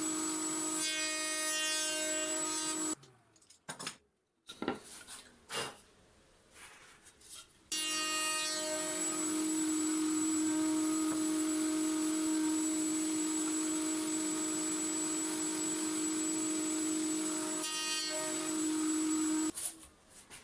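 A wood router routes end grain on a jig while shaping a template, a loud, steady high whine that stops for a few seconds with some clunks of handling, then resumes and holds evenly to the end, with no voices.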